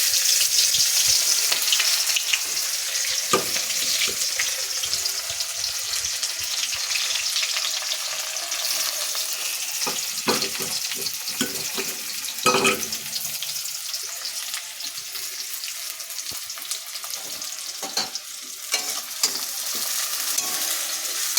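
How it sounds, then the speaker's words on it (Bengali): Sliced onions fry in hot oil left over from frying fish, a loud steady sizzle and crackle that continues for the whole stretch, with occasional stirring clatters and no talking. "মাছ ভাজার তেলেই পেঁয়াজ দিয়ে বেরেস্তা করে নেব।"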